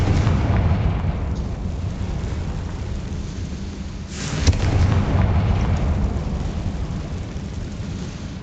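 Confringo fire-blast spell cast in the video game Hogwarts Legacy, a dense rumbling burst with a sharper crack midway, over steady low roaring game ambience.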